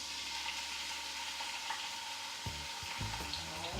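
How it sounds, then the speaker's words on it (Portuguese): Garlic frying in olive oil over low heat, a soft continuous sizzle with light stirring, then a few low knocks and bumps against the pan toward the end, no speech. "Vou fritar o alho aqui nesse azeite."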